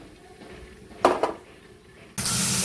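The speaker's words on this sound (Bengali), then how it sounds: "করলাটা ভেজে নেব" Bitter gourd hits a hot frying pan: after a short clatter of utensils, a loud, steady sizzle starts abruptly and holds close by.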